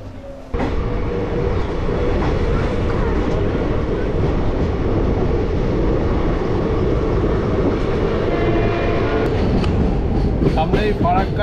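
Balurghat Express train (13063) in West Bengal running steadily, with a continuous loud rumble and rattle of the carriages throughout and faint voices in the background.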